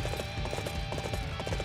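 Horse hooves clip-clop in a quick, steady rhythm from Dynasty Warriors 8 Empires, close and continuous over a dense game soundtrack.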